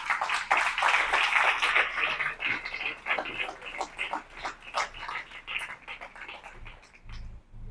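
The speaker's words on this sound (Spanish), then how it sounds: "Dan un aplauso al Señor" Congregation in a church clapping for the Lord, a dense burst of hand claps that thins into scattered, uneven claps before fading out near the end.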